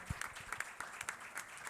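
Sparse clapping from a small audience, individual claps spaced unevenly and fairly faint, greeting a speaker's introduction.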